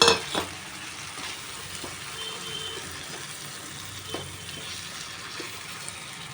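Capsicum sizzles in a hot pan as a little water goes in: a sharp burst of hiss at the start, then a steady quieter frying crackle with a few faint utensil clinks.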